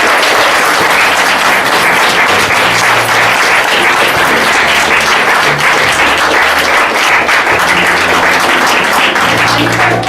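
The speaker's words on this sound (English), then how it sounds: "Paul, you may kiss your wife. A round of applause." Wedding guests applaud a newly married couple just after the kiss, loud, dense, continuous clapping filling the room from start to finish.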